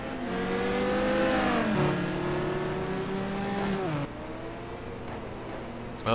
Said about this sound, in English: that Viper sure sounds like it's running a lower RPM setup